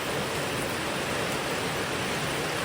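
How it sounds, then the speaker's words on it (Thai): Steady, dense rain pouring down at night, a loud, even hiss with no pauses and no voices over it. "ฝนตก"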